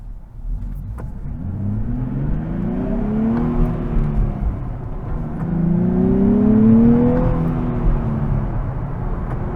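A 2023 Nissan Z manual sports car engine revs up and falls back through gear shifts in rising and dropping sweeps, loud and close, with a steady road rumble underneath.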